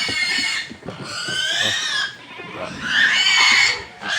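Pigs oink and squeal nearby on a farm carrying livestock, loud repeated grunting squeals in uneven bursts with no talk over them.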